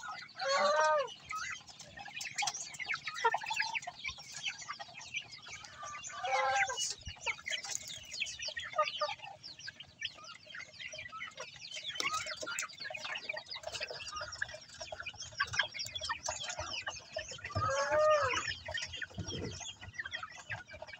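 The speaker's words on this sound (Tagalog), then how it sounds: "Malalaking breed ng manok." Large-breed chickens on a backyard mini farm, close and moderately loud. They give continual clucks and squawks with several sharper calls scattered through, and no talk.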